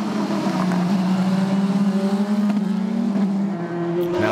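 Race cars, including two Porsches, roar past at the 2017 6 Hours of Nurburgring with loud sustained engine drones rising and shifting in pitch, heard close and continuous with a brief cut near the end.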